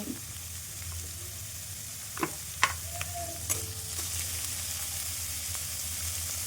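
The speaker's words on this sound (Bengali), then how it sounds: "কোচানো গাজর কোচানো ক্যাপসিকাম কোচানো কাঁচা লঙ্কা দিয়ে হালকা ফ্রাই করব" Chopped carrot, capsicum and green chilli fry lightly in a pan, giving a faint, steady low sizzle with a few sharp clinks and scrapes of stirring in the middle.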